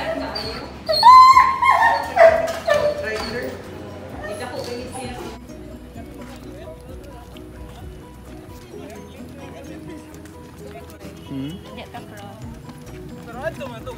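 Dogs out on a walk in Cebu Business Park give a burst of yips and whimpers near the start, then go quieter under a low background hum.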